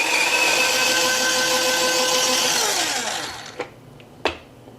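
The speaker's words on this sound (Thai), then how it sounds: "แล้วก็ปิดฝาครับ แบบนี้นะครับง่ายๆ กดปั่นได้เลยครับ" Electric blender whirring loudly and steadily while chopping fifteen Chinese garlic cloves, then winding down to a stop, followed by a couple of sharp clicks.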